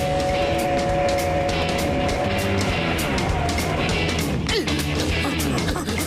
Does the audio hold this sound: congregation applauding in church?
no